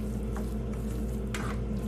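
Prawn masala finished with lemon juice and green coriander gets stirred in a pan, soft squishy scrapes over a low sizzle, brief and close, with no talking.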